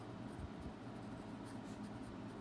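Pen or pencil scratches softly across paper as maths working is written out by hand, a faint, steady scribbling with no talk.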